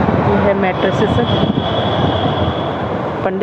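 A metro train rumbles and clatters past close by near an elevated metro station beside a highway, with a squealing high whine from the wheels, loud and continuous.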